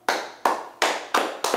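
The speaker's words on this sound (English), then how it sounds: "just clap it up for Bronny." Several rounds of hand clapping from a small group for Bronny, five sharp bursts in quick succession, each starting loud and tailing off, close and with no talking.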